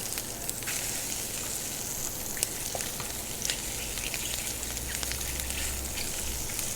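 King oyster mushrooms fry in a restaurant pan with a steady, close, moderate sizzle and occasional small pops and crackles, with no talk over it.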